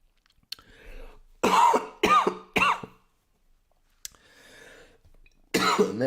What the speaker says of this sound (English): It's like dry cough that is lingering from when I was sick a couple weeks ago